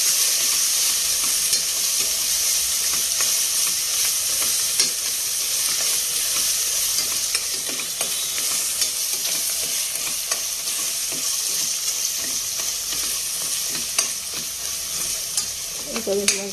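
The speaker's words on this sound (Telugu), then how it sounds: "దీంట్లో నేను కారం పసుపు అల్లం పేస్ట్ వేసి కొద్దిగా ఇలాగా కలిపేస్తున్నాను" Onion curry stirred in a hot pan after adding chili powder, turmeric and ginger paste, giving a steady, loud frying sizzle with scraping spoon strokes throughout and no voices.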